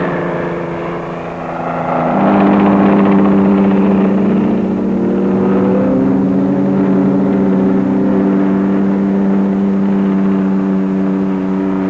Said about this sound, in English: And the Whirlwind, the Navy's familiar chopper,